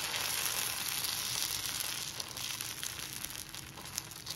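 Thin paalyapolo batter sizzles steadily in hot oil, a close, constant crackling hiss that eases slightly partway through, with no talking.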